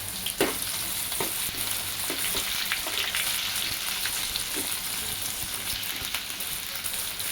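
Chopped onion sizzling in hot oil with crackling mustard seeds, cumin and curry leaves for a tur dal aamti, a steady loud fry hiss throughout with occasional sharper pops and spatters, no voices.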